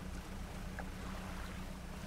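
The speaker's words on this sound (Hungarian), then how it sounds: "Néha elég jól meglódul a kis hajó." A small boat in the video game Dredge surges through water with a steady low engine drone and a rushing wash of water, even and continuous for about two seconds.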